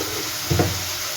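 Pointed gourd fries in a pan for potoler chapor ghonto, a steady close sizzle and hiss broken by a brief stirring scrape halfway through.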